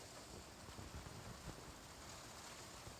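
Rain falling outside a greenhouse in spring in New Zealand, a faint, steady broadband hiss with soft patter and no voices.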